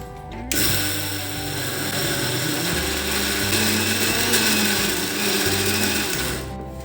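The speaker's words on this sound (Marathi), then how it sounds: "आणि पुन्हा एकदा मिक्सर फिरवून घ्यायचा आहे" A kitchen mixer grinder whirs steadily as it grinds chopped ginger with a bowl of sugar, a loud continuous motor drone with a faint rattle from the jar, running for several seconds before cutting off.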